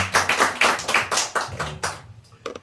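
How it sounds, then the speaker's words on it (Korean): A church congregation at a prayer gathering applauds in praise, a dense burst of many hands clapping together for a couple of seconds before thinning out to a few scattered claps. "우리 하나님께 영광의 감사 박수 한번 드리겠습니다"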